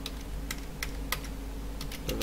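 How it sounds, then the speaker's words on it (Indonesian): Fingers typing on a computer keyboard while entering text into a table, a short run of sharp separate key clicks at close range with no talking. "kemudian Bapak ketik di sini misalkan"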